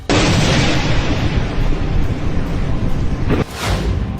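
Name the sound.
missile explosions in Israel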